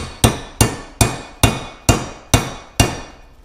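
A hammer taps a socket to seat a new seal in a Johnson Evinrude outboard lower unit, giving seven sharp, evenly spaced metallic knocks up close, each ringing briefly.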